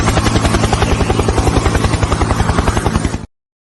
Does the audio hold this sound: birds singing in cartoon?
no